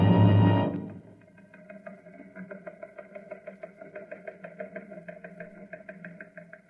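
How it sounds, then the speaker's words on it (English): A recon car's engine from a radio drama runs steadily after a brief loud burst, a rapid knocking mechanical chug that holds an even rhythm throughout. "I'm on my way in a recon car."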